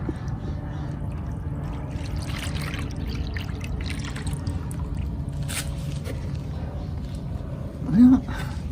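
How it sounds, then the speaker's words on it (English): Water is poured off settled fine muck during gold recovery, a steady soft trickling and sloshing with a brief louder splash near the end. "Pour off as much water as I can, and then get it into a gold pan."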